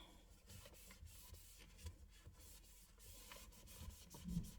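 A cloth wipes across car central console trim after spraying cleaner, giving soft, faint rubbing strokes in a steady back-and-forth pattern with no voices.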